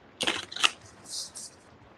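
Oracle cards are shuffled by hand in two quick crisp riffling bursts, followed by softer sliding and tapping of the deck, close and clear in a quiet room.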